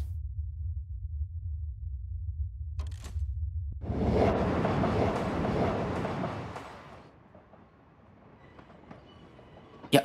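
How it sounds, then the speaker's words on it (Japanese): Train running on rails in the video game Eastward: a low steady rumble gives way to a loud, broad rushing roar for a few seconds, then fades to a quieter hum with faint clicks, no voices. "いや、電車なんですよね。"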